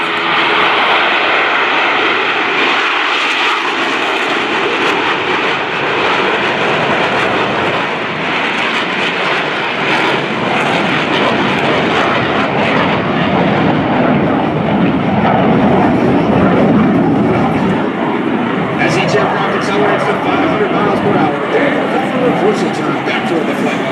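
US Navy Blue Angels jets in diamond formation sweep low over a naval air station air show, a loud continuous jet roar that swells and holds for the full length with announcer commentary over it.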